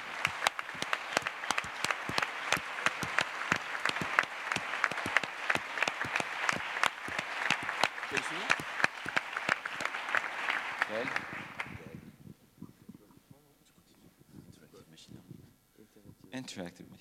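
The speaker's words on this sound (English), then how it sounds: "So a round of applause for them," Audience applause at an academic conference's closing business meeting, steady dense clapping for about eleven seconds before dying away into scattered claps and a quiet room with a voice.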